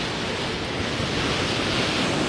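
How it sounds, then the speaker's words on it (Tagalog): Strong typhoon wind under Signal No. 4 in Santa Ana, Cagayan, a continuous loud roaring rush of broadband noise battering the microphone with no let-up. "Sana naririnig nyo kung gaano kalakas yung hangin"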